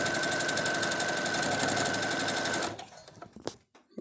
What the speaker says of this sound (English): Take it over to our sewing machine.